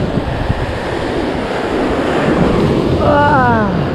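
Rough ocean surf breaking against the rocks along a rocky shoreline, a steady loud wash and roar mixed with wind buffeting the microphone, with a voice speaking briefly near the end.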